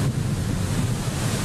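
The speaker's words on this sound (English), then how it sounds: "On this windy day with a rough surf at Beavertail State Park" Strong wind buffets the microphone while rough surf roars steadily nearby at Beavertail State Park, a dense continuous rush with no voices.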